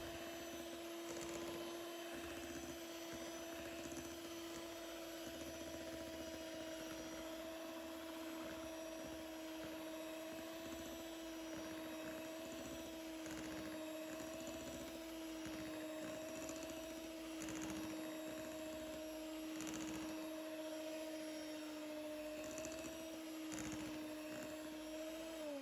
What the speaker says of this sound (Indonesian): Ini juga di mixer dengan kecepatan paling rendah ya teman-teman.